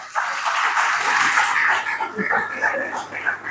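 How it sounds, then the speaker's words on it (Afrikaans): A church congregation claps together during a blessing service, a dense, steady wash of applause from many hands that holds for several seconds close by. "Kom ons gee hulle lekker hande klap."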